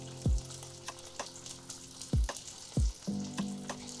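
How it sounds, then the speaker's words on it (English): Chicken frying in a pan makes a continuous low sizzle, broken by several loud, brief knocks and thumps from the pan or utensils, without any talk. "fry the other side as well. So the chicken is almost done now"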